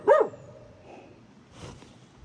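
A dog gives one sharp, close bark, then softer grunts and a faint second yelp, set in a quiet outdoor spot on private property near ATV trails.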